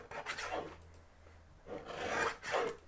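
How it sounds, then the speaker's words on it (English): Paper is trimmed for a handmade birthday card, making quiet rasping strokes: one scrape early on, then two more close together near the end, soft and close with no talking. "we're going to trim a little tiny bit on this side"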